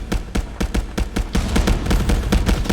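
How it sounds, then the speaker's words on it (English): Rapid bursts of gunfire in the VR shooter ContractorsVR during a competitive firefight over a capture point, with dense, overlapping close shots repeating steadily throughout and no talk. "the gunshots are just ringing out as this intense firefight ensues over this point"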